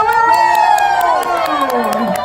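At a safari park, a loud crowd cheers and whoops for a yellow Labrador running a 100-meter track, sustained shouting voices swelling close by with children's yells mixed in.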